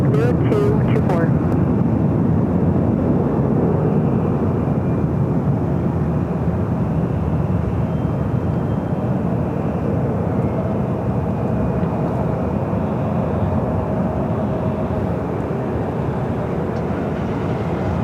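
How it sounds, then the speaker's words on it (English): An Alaska Airlines Boeing 737-800 rolling down the runway at LAX: a loud, continuous low engine rumble that stays steady throughout, with brief clicks at the start. "Alaska Airlines Flight 1083 heading to Seattle, 737-800, now rolling down to 24 left."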